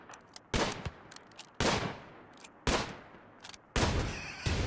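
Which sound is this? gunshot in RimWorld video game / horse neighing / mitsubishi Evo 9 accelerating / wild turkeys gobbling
gunshot in RimWorld video game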